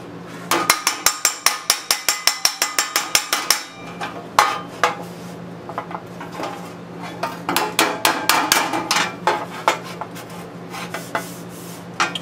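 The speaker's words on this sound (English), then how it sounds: "Let's do it with the magic hammer." Hammer striking sheet metal on a dolly while restoring the utility box of a 1940s Harley Servicar: a fast run of sharp ringing metallic blows, then a pause and scattered, irregular taps, close and loud.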